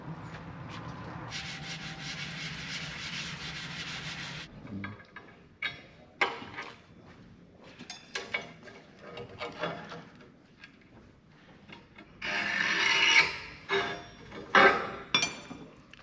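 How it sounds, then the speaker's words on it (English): Rust being scraped and sanded off a boat rudder to prep the surfaces for welding: intermittent rubbing and scraping strokes with occasional metallic clinks and taps, some longer steady abrasive passes, close and fairly loud with no talking. "Just taking the rust off, prepping the surfaces, ready for the welding."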